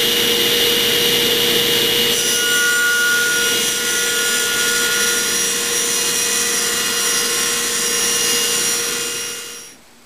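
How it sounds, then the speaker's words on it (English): A power saw cuts a tenon cheek in a wide piece of walnut for a fireplace mantel, making a loud continuous whirring drone with a slight shift partway through, then tapering off and stopping. "We'll flip the wood around, cut the other, and then we'll reset the saw for doing the 90-degree cheeks so we finish up the tenon."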